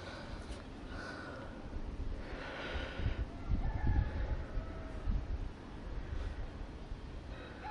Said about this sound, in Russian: Петухи и ревут, прям как дома.